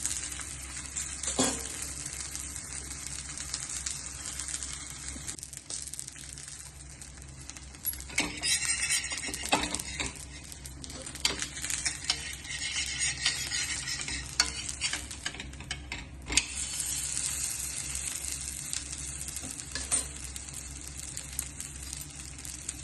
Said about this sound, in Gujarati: આનું તેલ પણ ઓછું લાગે છે, કારણ કે હું ડીપ ફ્રાય કરવાનું નથી.